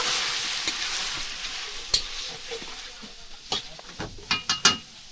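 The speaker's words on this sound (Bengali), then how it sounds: "চুলাটা তো দাঁড়া, বন্ধু এটা তো রান্না করতেছে দেশি মুরগের মাংস" Country chicken meat cooking on a stove, a soft continuous sizzle with irregular stirring knocks and scrapes of a utensil, a few sharper clacks toward the end.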